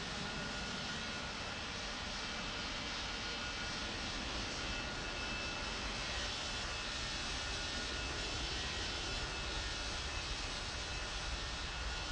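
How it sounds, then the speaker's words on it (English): Airliner jet engines roar during takeoff in the World of Airports game, a steady, dense, unbroken rush of engine noise that stays constant throughout. "Delta 3083, cleared for takeoff, wind 30 degrees, 2 knots."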